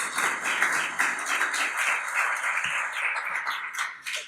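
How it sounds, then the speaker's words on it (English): A seated audience at a book launch applauds its panel in a sustained wash of many clapping hands, fairly close and loud, with a few sharper individual claps standing out as it slowly thins near the end. "please give our panel a round of applause"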